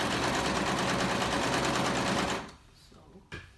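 A serger runs at a steady, fast hum while gathering cotton lycra fabric, loud and close for a little over two seconds, then stops, leaving a quiet tail with a couple of faint clicks.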